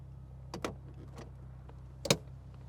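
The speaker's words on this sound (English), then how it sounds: "Gonna put the windows up so we can hear any rattles or clunks" Power windows rising on a Honda S2000 roadster with the top up, a couple of brief motor whirs and a sharp thunk as a window seats, faint over low idle hum.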